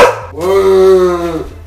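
A pet dog, a female, gives a single drawn-out bark-like yowl lasting about a second, close and fairly loud, with no talking over it.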